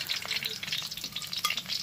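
Cauliflower florets fry in hot oil in a pan, a steady close crackling sizzle with light stirring scrapes and no voices.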